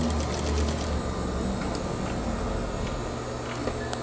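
A sewing machine stitches along the edge of the interfacing on a shirt collar, giving a quiet, steady mechanical whir with faint rhythmic ticking.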